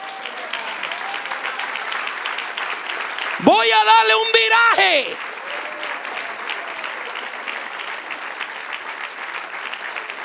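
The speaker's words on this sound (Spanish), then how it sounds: "¡Den un aplauso al Rey!" Congregation applause in a church sermon, a steady dense wash of clapping throughout, briefly interrupted by someone speaking loudly over it before the clapping carries on.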